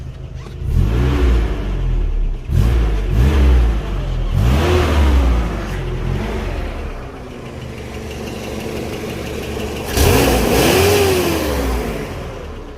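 A Nissan Patrol SD33 diesel engine idles roughly close by and is revved several times in quick succession, then given one longer rev before settling back to a steady rumble.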